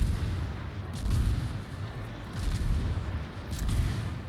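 Heavy ship artillery salvos rumble in a World of Warships naval battle involving a Tier 10 Ragnar destroyer, with repeated deep booms swelling and fading over a constant low roar, no voices.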